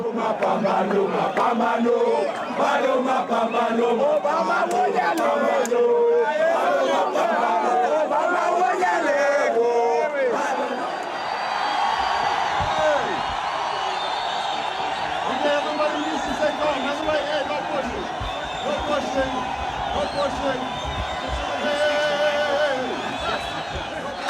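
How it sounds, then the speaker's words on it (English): A huge crowd lining the streets of a very small African town cheers and roars, with loud whoops and shouting that swell, then settle into a dense, continuous din of voices. "hundreds and hundreds and thousands of people just lining the streets of this very small town, cheering this man, my husband"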